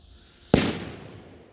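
A single firecracker bursts with a sharp, loud bang, followed by a brief fading crackle and tail.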